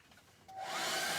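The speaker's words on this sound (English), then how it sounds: "let me get my hair dryer out on this and see how it turns out" A hair dryer switches on partway through and blows a steady, loud whoosh over a freshly painted barn door coat.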